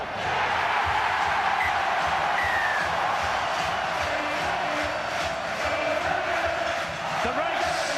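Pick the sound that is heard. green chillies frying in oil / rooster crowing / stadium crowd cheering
stadium crowd cheering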